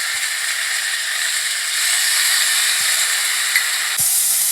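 Sauce hitting hot frying vegetables for paneer fried rice, a loud, steady close sizzle and hiss throughout with a few faint clicks and a brief flare of spitting near the end.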